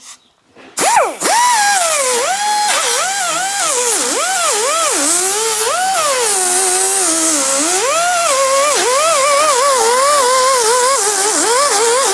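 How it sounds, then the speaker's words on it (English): A die grinder fitted with a flap wheel deburrs a cut hole for a snorkel install on a GQ Patrol Y60. It spins up after a short quiet start and whines loud and close, its pitch wavering constantly under changing load. "try and debug the hole with the die grinder and a flapper wheel"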